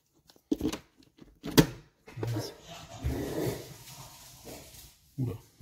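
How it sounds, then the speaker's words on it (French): Agitated dogs make short barks and whimpers in bursts with pauses between, at moderate distance, during work on a 2005 Trekker wheel bearing. "les chiens sont pas contents"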